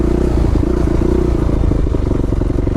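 Carburetted motorcycle engine idling steadily after a rebuild, a rough, rapid loud putter with a continuous mechanical clatter, close by and without pauses.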